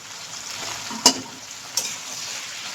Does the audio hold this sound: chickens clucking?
no